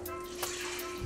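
Chicken stock poured into a cooking pot, a short continuous splashing stream of liquid, close and fairly loud, lasting about a second.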